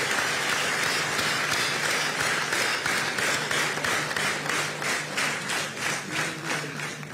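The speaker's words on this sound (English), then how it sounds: "let us give a big round of applause to ISRO's all-women team of Chandrayaan" A crowd applauds ISRO's all-women Chandrayaan team at a Jio event, sustained and fairly loud with steady rapid clapping that holds for the whole stretch.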